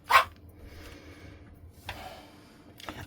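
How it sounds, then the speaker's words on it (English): A single sharp dog bark up close, followed by a quiet pause and a couple of softer muffled sounds. "he started barking"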